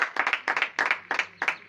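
A church congregation claps together in a steady rhythm, loud, even bursts repeating about three times a second as they acclaim Jesus.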